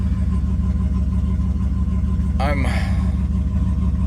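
A turbocharged GMC truck engine with 60-pound injectors idles loudly and steadily with a low throbbing rumble, broken briefly by a short squeaky chirp partway through.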